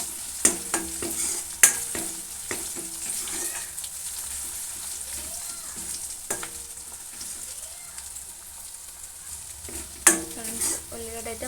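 Onions frying in a pan with ginger paste and a pinch of turmeric for a tomato egg curry, a steady sizzle with a spatula stirring and scraping, several sharp clinks of utensil on pan standing out.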